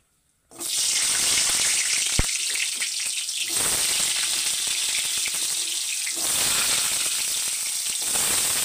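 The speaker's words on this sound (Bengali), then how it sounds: "প্রথমে আমি কুমড়োটা ভেজে নিচ্ছি।" Pumpkin pieces frying in hot oil in a wok give a loud, steady sizzle that fills the whole stretch, with one sharp clink partway through and a brief dip in intensity before it swells again.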